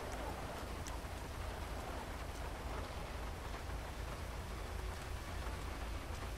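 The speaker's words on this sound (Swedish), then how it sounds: "Vilket regn det var alltså." Heavy rain in the Stockholm Emergency video game, a steady dense hiss of falling rain that runs unbroken and fairly loud throughout, with no voices over it.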